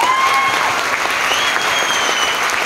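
A large audience claps loudly and steadily through the whole stretch, a dense wall of applause with no voices standing out.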